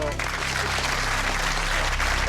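Dense applause fills the whole stretch, steady and fairly loud, with a crowd's voices faintly mixed in.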